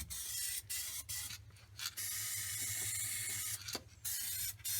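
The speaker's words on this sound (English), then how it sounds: "Maybe I'll spray with some wax oil." Wax oil sprayed from an aerosol can in several bursts, long hissing sprays broken by short pauses, close and fairly loud, on a Nissan Sunny N13 fitted with N14 electric windows.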